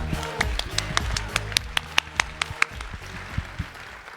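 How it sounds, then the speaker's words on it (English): Sparse, distinct claps from a small audience at a SIGGRAPH Asia live event, a dozen or so sharp hand claps in an irregular rhythm that thin out toward the end. "so please give us a round of applause"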